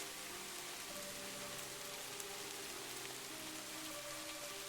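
Rain falling at night, a soft, steady patter of drops on surfaces with a faint, even hiss throughout, quiet and distant, with no voices.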